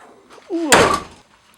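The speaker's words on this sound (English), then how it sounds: "I don't recommend slamming your trunk lid." A car trunk lid slams shut with one sharp, loud, close thud, just after a brief squeaky creak as it comes down, then quickly fades out.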